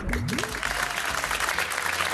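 Studio audience applause on a French TV quiz show, a steady dense patter of clapping over low background tones and a brief rising electronic sweep at the start.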